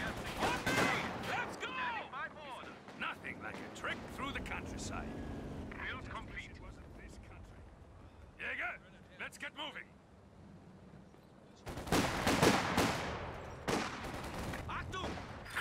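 Gunfire in the World War II strategy game Company of Heroes 2: bursts of rifle and machine-gun shots and distant battle noise, with a loud dense volley near the end and voices shouting over the fighting.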